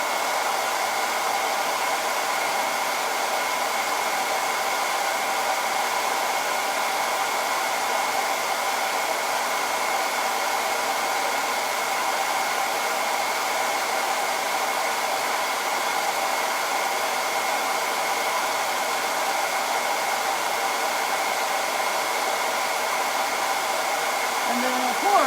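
A hair dryer blows steadily on a flour-coated craft piece, a constant loud whirring hiss that holds unchanged for the whole stretch with no voices.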